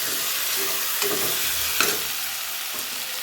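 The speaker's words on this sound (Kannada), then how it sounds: "ಇವಾಗ ಅರ್ಶಿನ ಸಿಂಪಲ್ಲಾಗಿ ಫ್ರೈ ಆದರೆ ಸಾಕು" Turmeric sizzling and frying in a pan for a simple vegetable pulao, a steady soft crackle with a few light stirring clinks and scrapes, close and alone with no talking.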